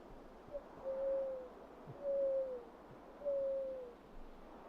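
A person imitates an owl at night, giving three drawn-out hoots at an even pace, each one slightly sliding down, in a quiet indoor room.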